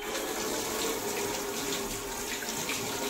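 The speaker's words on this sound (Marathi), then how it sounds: "हात धुते" Steady running water from a tap splashes continuously into a sink, as hands are rinsed under the stream, with no talking.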